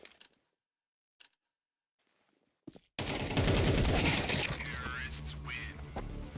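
Gunfire in a competitive video game league match: a few sharp isolated shots, then a loud dense burst of rapid fire with a commentator talking over it.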